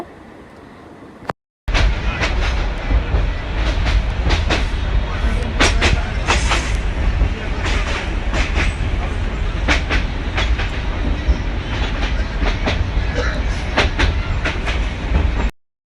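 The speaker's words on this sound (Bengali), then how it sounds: "তো ট্রেন জার্নিটা অনেক ভালো ছিল।" A train rolls steadily along the rails, its clickety-clack loud and continuous from close inside a carriage, punctuated by sharper rattles and jolts, after a brief quieter moment at the very start.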